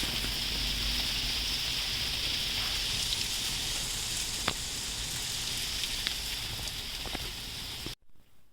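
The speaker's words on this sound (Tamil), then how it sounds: "இப்படி தான் இங்கே மழை வந்து பெஞ்சிக்கிட்டே இருக்கும் எப்போவுமே." Hail and rain fall in the Netherlands as a dense, loud, continuous hiss with a few sharp ticks of hailstones, steady for about eight seconds before cutting off abruptly.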